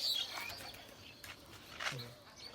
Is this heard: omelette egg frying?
no